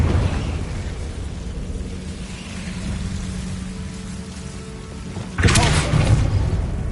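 A Confringo blasting spell from Hogwarts Legacy goes off late in the clip as a sudden loud boom with a crackling burst, following a steady rain-like hiss and low rumble of game ambience.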